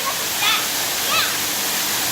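Waterfalls at the top of the 13 River Crossings hike on Makamakaole Stream in Maui, Hawaii, give a loud, steady rushing roar of falling water, with a couple of brief voices rising faintly above the torrent.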